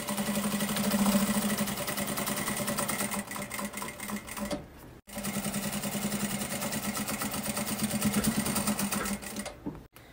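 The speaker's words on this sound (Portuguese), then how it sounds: "E faço essa costurinha estabilizando o bolso." A sewing machine stitches across a bag pocket to hold it in place, running in two long, steady bursts of rapid mechanical chatter with a brief stop between them. No voices are heard.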